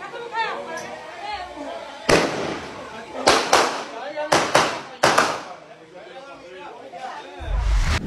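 Several sharp, loud bangs in quick clusters, like bursts of gunfire, ringing out over a crowd of voices talking in the background.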